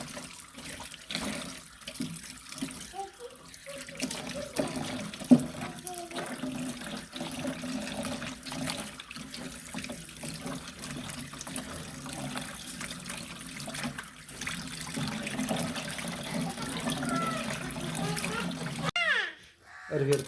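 Running tap water splashes steadily while something is washed in a sink, a continuous close trickle and splash with faint voices underneath.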